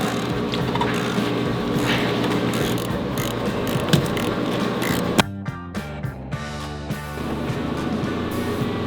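A ratchet clicks in short bursts while an oil filter socket works on the filter of a Ferrari 458, close and mechanical over a steady background hum, without speech.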